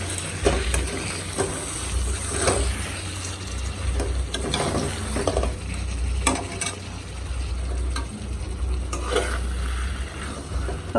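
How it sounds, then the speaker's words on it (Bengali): Spiced meat sizzles in a pan while it is lightly stirred, with steady frying crackle throughout and repeated scraping strokes of a spoon against the pan, close and fairly loud, with no speech. "হালকা করে একটু নেড়ে দিচ্ছি, একটু শুধু মশলাই আছে।"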